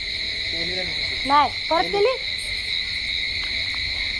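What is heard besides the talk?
crickets chirping at night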